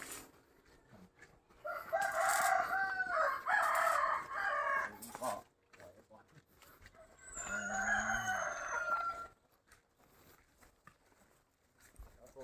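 Roosters at a Thai fighting-cock pen in Lampang crow loudly and nearby, two long drawn-out calls separated by a short pause, with softer clucking between them and faint quiet stretches around the calls.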